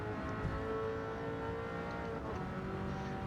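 An Alfa Romeo 8C racing through a tunnel on the Tokyo Expressway in Gran Turismo 7. Its engine holds a steady, high, tonal wail at sustained speed, close and constant with no speech over it.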